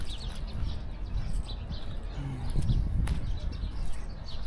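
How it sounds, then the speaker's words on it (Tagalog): Birds chirp and tweet around a park pathway in the morning, several short calls scattered over a low outdoor rumble. "Daming ibon dito"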